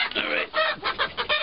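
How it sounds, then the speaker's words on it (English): A chicken clucks in a caged enclosure in New York, a close run of short, uneven squawking calls that rise and fall continuously without speech over them. "Alright, so this is a chicken."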